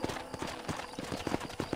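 Horse hooves clip-clop in a steady, quick rhythm beside a corral in the Western video game Red Dead Redemption, fairly faint under a low ambient bed.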